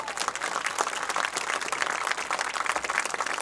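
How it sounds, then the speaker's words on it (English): An audience at a varsity football game applauds a Hall of Fame inductee, a dense, even wash of clapping from many hands at a moderate distance. "please join me in one more round of applause"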